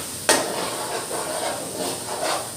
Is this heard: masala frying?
yes